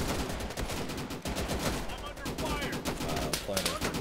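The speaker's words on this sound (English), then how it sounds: "I'm under fire." Gunfire in the video game Easy Red 2 during a Battle of Anzio campaign, with dense bursts of rifle and machine-gun shots crackling continuously and loudly, some near and some farther off, without a break.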